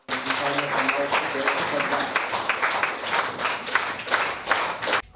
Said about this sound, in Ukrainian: Гучними оплесками вдячності репортера та військовослужбовця збройних сил України вітають колеги-медійники